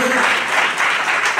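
A church congregation claps together during a sermon, a dense, steady burst of many hands applauding close by for a moment without a break.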